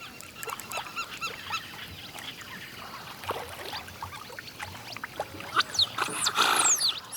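Giant otters in the Pantanal wetland of Brazil bark and call, with short nasal yelps scattered over a noisy outdoor background and a louder burst of calls near the end.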